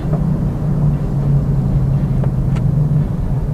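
A car drives along a city road in Jakarta, giving a steady low rumble of engine and road noise from inside, with faint brief ticks and no voices.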